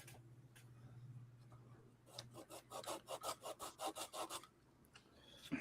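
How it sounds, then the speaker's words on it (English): A sanding block is rubbed back and forth over wood in a run of about a dozen rhythmic strokes, close and rasping, after a quieter stretch with a low hum. "Making a mess with my sanding block."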